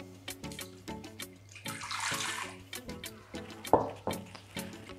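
Half a cup of water pours into a blender in a home kitchen, a splashing trickle in short bursts with a louder gush midway and a brief clink near the end.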